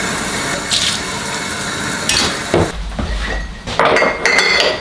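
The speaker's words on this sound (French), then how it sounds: "On va renettoyer le bocal et le couvercle." Glass jar and its metal lid washed under running water, with splashing flow, clinks and knocks of glass and lid, and a pause before the water rushes again.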